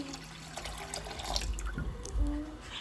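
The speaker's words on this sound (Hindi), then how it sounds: "यहाँ पे मैंने लिया है आधा लीटर मैंने लिया है पानी" Half a litre of water poured into a pan to start Kashmiri pink chai; a steady, soft splashing pour with a low swell near the end, close and quiet, no speech.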